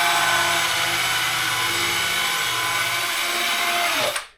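A steady, loud whirring of a power drill spinning a horsehair brush across a waxed snowboard, running continuously for several seconds before stopping abruptly.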